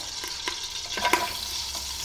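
Small onion pieces fry in oil inside a pressure cooker for a mutton karahi, a soft continuous sizzle with light stirring scrapes and clicks, close and moderately quiet.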